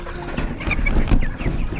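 Cornish cross meat chickens in a backyard pen, a flock giving soft, scattered clucks and short chirps at close range, with steady rustling and shuffling underneath.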